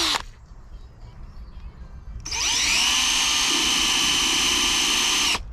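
An electric drill bores a hole on a narrowboat beside a quiet canal towpath, starting after a couple of seconds as a loud, steady, high-pitched whine that holds evenly for about three seconds before cutting off.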